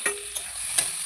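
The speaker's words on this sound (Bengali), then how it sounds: "এর মধ্যে আলুগুলোকে দিয়ে দিলাম। ভালো করে নাড়াচাড়া করে নেব।" Potatoes stirred and fried in a pan for a fish curry, three sharp scraping strokes of a spatula over a soft, steady sizzle, close and fairly loud.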